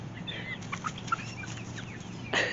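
Farm chickens clucking close by, a scatter of short clucks and soft squawks over a quiet background, ending in a louder burst of calls.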